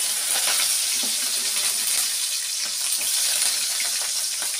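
Mustard seeds, onion and curry leaves fry in hot oil in a pan, giving a dense, steady sizzling hiss with faint crackles throughout, close and fairly loud, with no voices.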